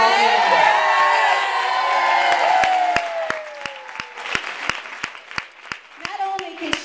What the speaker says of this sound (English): let's give a round of applause for Kara Baldwin